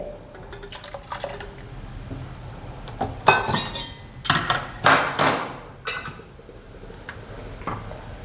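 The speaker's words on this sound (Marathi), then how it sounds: "आता यामध्ये मी थोडंसं गरम पाणी टाकत आहे" Hot water mixed with ground spice paste poured into a pan of chickpea masala gravy, giving splashy pours and loud clattering knocks of a vessel against the pan in the middle, close, with no talking.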